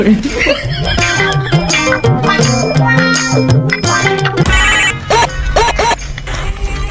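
A phone rings over busy background music and clatter, its tone repeating several times near the end.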